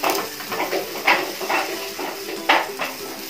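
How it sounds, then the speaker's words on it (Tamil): A tapioca adai dosa cooks in oil on a pan after being flipped, with a soft sizzle and several sharp scrapes and taps of a spatula against the pan, close by. "ஒரு சைடு நம்மளோட அடை நல்லா வெந்துருச்சு. இன்னொரு சைடு திருப்பி போட்டுக்கலாம்."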